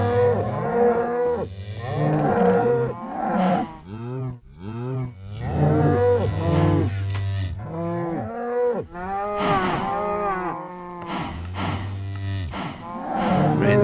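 Minecraft cows in a hardcore cow farm, mooing loudly and repeatedly, several overlapping calls in a near continuous sequence with short gaps, no talking.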